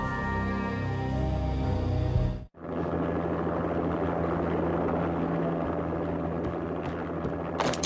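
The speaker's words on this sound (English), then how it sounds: "An armed helicopter just landed on the manor grounds." An armed helicopter settling onto the grounds of a manor in the game Max Payne, a steady loud rotor and engine drone that breaks off for an instant and then resumes, with no talk over it.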